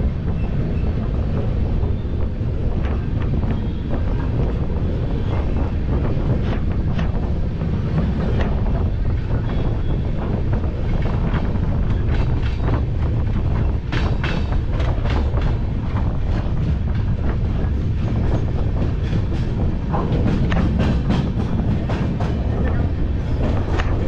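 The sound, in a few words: LTT Mumbai - Dibrugarh Express train running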